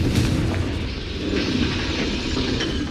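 Confringo blasting spells explode in Hogwarts Legacy, a loud, continuous, heavy rumbling roar of blasts with no break and no voices.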